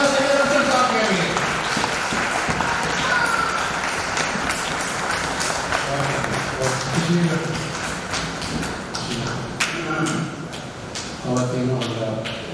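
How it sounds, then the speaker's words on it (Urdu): An audience at an Urdu mushaira poetry gathering claps to welcome a poet, a dense, sustained patter of applause that carries on under someone speaking over it. "ڈھیروں تالیاں سید انصر صاحب کے لیے۔"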